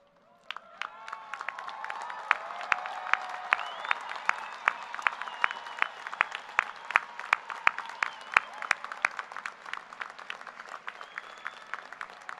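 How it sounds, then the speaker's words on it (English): Sustained applause and cheering from a large crowd of first-generation graduates at a university commencement ceremony for an engineering and computer science college. Dense clapping swells after a brief pause and stays steady, with sharp individual claps standing out. "would you please cheer and stand if you are able?"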